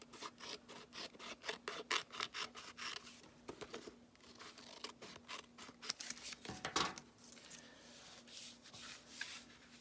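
Scissors trimming the edge of a paper envelope: quiet, close snipping and rasping cuts in quick rhythmic bursts, a short pause midway, then a few more slower cuts with paper rustle, no talk.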